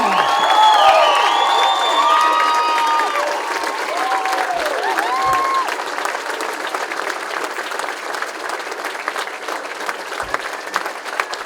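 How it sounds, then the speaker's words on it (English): Sustained applause and cheering from a large audience giving a standing ovation at a fire department recruit graduation ceremony, loud and dense at first with whoops and whistles, then settling into steady clapping. "Standing ovation, come on."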